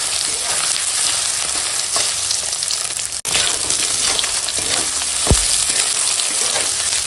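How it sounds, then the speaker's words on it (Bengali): Soybean chunks frying with onion and green chili in a pan: a constant loud sizzle and crackle close by, with occasional stirring scrapes and one brief knock partway through, no talking. "সয়াবিনটার সঙ্গে অল্প সময় একটু ভেজে নিয়েছি।"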